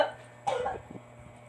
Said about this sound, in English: My wife has a very bad cough.